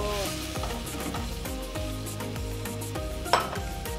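Meatballs frying in a pan for an apritada, with a steady crackling sizzle and the scrape and clatter of stirring, close and continuous, including one sharper knock near the end.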